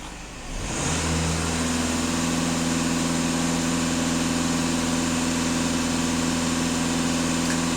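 The 2.0 TDI diesel of a VW Passat B8 with 400,000 km on it runs steadily at about 2500 rpm, a close, constant droning hum with strong low tones and no talking.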